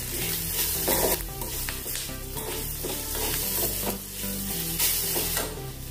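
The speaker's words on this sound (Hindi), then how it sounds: "अच्छे से मिक्स कर लेंगे।" Spoon stirring appe batter with turmeric, red chili powder and salt in a bowl, a steady close wet churning and scraping for several seconds with no talk.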